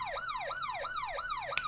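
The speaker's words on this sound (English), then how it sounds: "The police siren's great." A police siren wails in a steady, repeating rise-and-fall cycle, about three sweeps in under two seconds, loud and close with no talk over it.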